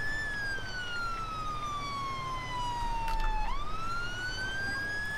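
A London Fire Brigade fire engine siren in the GTA 5 video game wails steadily, sweeping slowly down and then back up in a long, loud, continuous tone over faint traffic noise.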